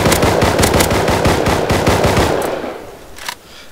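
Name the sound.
gunfire in a shooting video game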